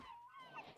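Seagulls call in a video game, with a faint, brief pair of honking cries heard at low volume.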